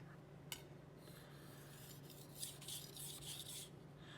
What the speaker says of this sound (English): You'll notice, because it is a finer stone, that it actually sounds a lot quieter because it's scraping a little bit less.